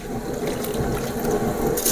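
Water boils in a cooking pot for mutton nalli biryani, a close, continuous bubbling and churning with low rumbling that stays steady throughout.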